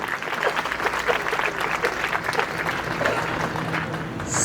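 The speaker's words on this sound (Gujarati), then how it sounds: "એટલી તાળી તો ભાઈઓએ પાડી દીધી" An audience claps at a Gandhi fair held at Uka Tarsadia University. The applause is dense and continuous across the whole stretch, with a faint murmur mixed in.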